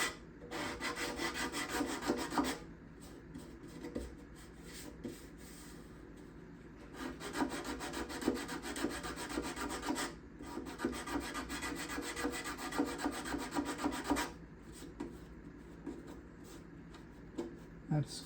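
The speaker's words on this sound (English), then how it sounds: "I'll take my plexiglass sanding block with some 120 paper here" A plexiglass sanding block with 120-grit paper rasps across wood on the back side by the binding, in three long bursts of quick back-and-forth strokes separated by short pauses, close and steady.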